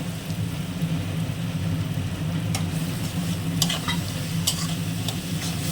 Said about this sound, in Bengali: টমেটো সস দেওয়া হচ্ছে এরপরে